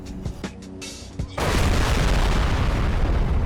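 Explosion from the Crysis video game trailer: after a few scattered sharp bangs and a voice, a loud broadband blast erupts and holds as a sustained roaring rumble to the end.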